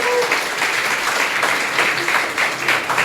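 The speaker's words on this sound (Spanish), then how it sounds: "Dale un fuerte aplauso al Señor." A church congregation applauds during a worship service, a steady ripple of clapping at moderate loudness with a few voices mixed in.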